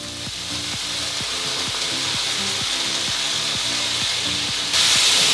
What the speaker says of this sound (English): it's starting to brown now, so I want to add in a couple tablespoons of oyster sauce